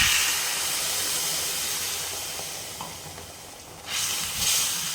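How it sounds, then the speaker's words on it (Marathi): Spiced ground masala water poured into a pan of hot frying masala for a drumstick curry, a steady hissing sizzle that rises in a louder burst near the end. "आता मी त्यामध्ये पाणी घालते"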